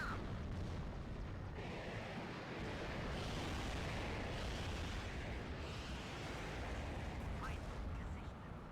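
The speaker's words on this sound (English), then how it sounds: "He's just shooting 80mm rockets, effectively suppressing this vehicle and hopefully routing him" Rocket fire and explosions in a military video game battle, an attack helicopter loosing 80mm rockets at an enemy vehicle: dense, continuous rumbling blasts and booms filling the whole stretch without pause.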